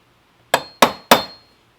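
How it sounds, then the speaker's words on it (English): Three sharp metallic hammer strikes on a center punch against a Shelby GT350 battery cover, evenly spaced and close, each ringing briefly before fading into quiet. "I'm just going to use a hammer"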